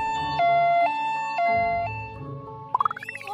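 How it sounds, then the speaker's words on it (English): An ambulance siren wails in a two-tone pattern, alternating high and low pitches, then starts a rising whoop at the end. Close and loud, no talking. "A is for ambulance."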